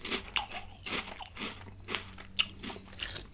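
Prawn-flavoured healthy chips being eaten up close, with repeated crisp crunches and chewing in an uneven rhythm and faint mouth sounds between bites. No speech.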